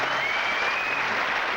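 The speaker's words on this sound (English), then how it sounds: "Oh, you wanted a round of applause for that?" A quiz show studio audience breaks into brief, dense applause, loud and even throughout with no voices over it.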